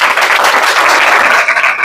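Audience applause at an RCM products seminar welcoming a guest onto the stage, a dense, even burst of clapping lasting about two seconds with no talk over it.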